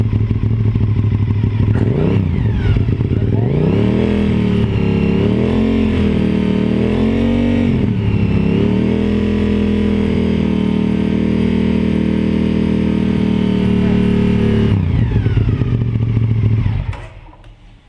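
A motorcycle engine revs up from idle and is held steady around 5,000 rpm, a loud continuous droning roar with slight wavering in pitch, then drops back down near the end; no talking.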